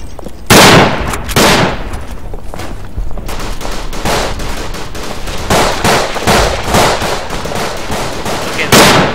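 Pistol gunfire in the World War I shooter Verdun, with a rapid irregular string of sharp cracks, some near and loud, others farther, overlapping into a sustained fusillade across the battlefield.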